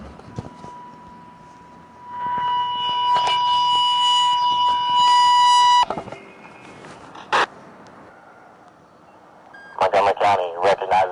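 A fire alarm tone sounds at an outdoor memorial ceremony for fallen firefighters and EMS members. A steady pitched tone with a radio-like warble is joined by beeping bursts, followed by short crackles and a brief voice.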